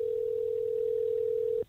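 A single steady telephone tone sounds on an outgoing call, a clean sustained note for about a second and a half before cutting off, faint line hiss beneath.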